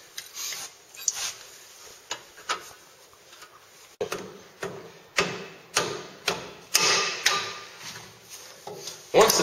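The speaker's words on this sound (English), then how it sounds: "we needed to use a rubber hammer as to not warp any of the steel" Rubber hammer knocking a worn front disc brake caliper loose, a series of sharp hollow thuds in an irregular rhythm that grows louder and closer together, with faint scraping in between and no talking.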